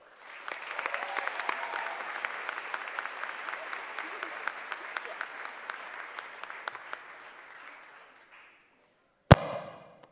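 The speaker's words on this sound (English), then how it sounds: "let's give a warm round of applause for our Graduate Student of the Year, Tesla Aguilar" Warm applause for the Graduate Student of the Year fills a spring commencement hall, a dense steady clatter of many hands with sharp individual claps that fades out near the end, followed by a single loud bang.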